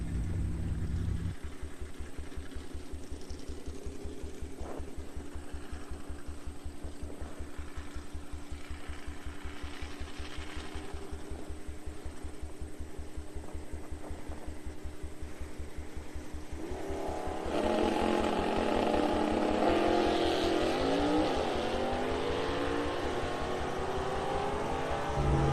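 Drag racing cars at TriState Raceway: a steady rumbling idle of a V8 car lasts most of the clip, then a loud engine surge and revving takes over near the end.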